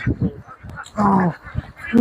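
A flock of domestic ducks on a farm quacking close by in short repeated calls, with a person talking over and between them.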